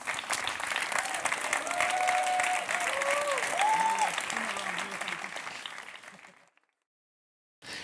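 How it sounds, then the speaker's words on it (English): Audience at the European Youth Award Gala 2014 applauding the winners, a dense, steady roar of clapping that holds for several seconds before cutting off, with brief talk and tones heard beneath it. "Let's have a big round of applause for the winners."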